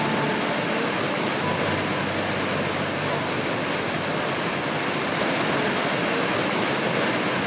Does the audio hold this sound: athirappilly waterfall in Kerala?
yes